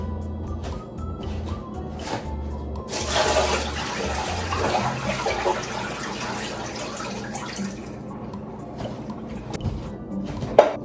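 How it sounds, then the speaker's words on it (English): Water draining out of a pot of boiled eggs, a steady pouring splash that swells loudest in the middle and then thins to trickles and drips, with soft kitchen clatter. "Then just go ahead and drain the water and then toss out your eggshells"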